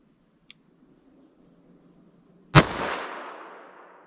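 A single sharp report from a .38 Special +P revolver with a 4-inch barrel, firing Cor-Bon DPX solid copper hollow points. The loud crack rings out after near silence and decays into a long echoing tail, with a faint click just before.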